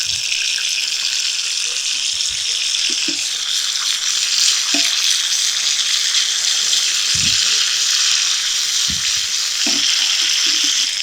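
Mustard seeds, urad dal, curry leaves and dried red chillies tempering in hot oil give a steady, loud sizzle and crackle. Occasional low thumps and knocks rise from the pan underneath, and no one speaks.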